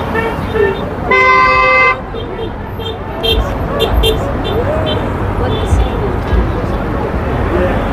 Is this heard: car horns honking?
yes